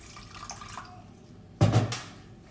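Cold water is poured into a cup of coffee with sugar. A quiet, brief splash comes after a near-silent moment and then fades quickly, with no voices.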